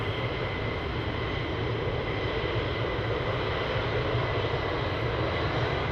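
Military jet engines rumble at RAF Lakenheath, a steady, loud roar with a sustained tonal whine that holds constant throughout, heard from a distance across the airfield with no talk.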